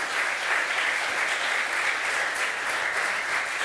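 A studio audience at a sports talk show breaks into steady applause, an even, continuous wash of clapping heard at moderate level with no voices over it.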